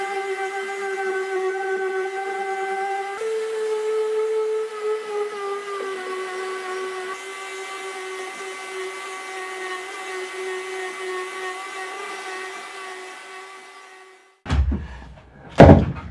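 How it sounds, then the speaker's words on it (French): A wooden coffee table top is sanded with a power sander, giving a steady tonal whine that shifts pitch partway through and runs for about fourteen seconds before stopping, followed by a couple of knocks. "je mets la caméra en route de manière à ce qu'on puisse voir la fin du ponçage"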